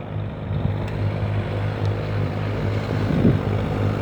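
Mahindra eMAX 20 HST subcompact cab tractor with hydrostatic transmission and a front-mounted 48-inch snowblower, its engine droning steadily and loudly throughout, close by on a snowy day.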